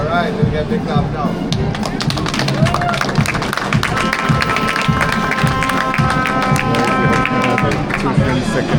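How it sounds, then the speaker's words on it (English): A crowd at a secondary school commissioning claps and applauds, dense and close, over loud overlapping talk, cheering and movement throughout. "Get big clap now."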